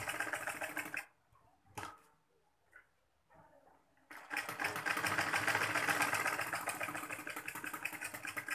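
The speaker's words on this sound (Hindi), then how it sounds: "तो हम यहाँ पट्टी सिलाई कर लेंगे।" Sewing machine stitching a strip on the back of a blouse: a loud, steady motor whir runs for about a second, stops for a quiet gap with a brief burst, then starts again and runs continuously to the end.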